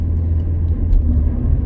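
A Rover 45 car with about 42,000 miles on it runs with a steady low engine rumble, close and loud, no talking.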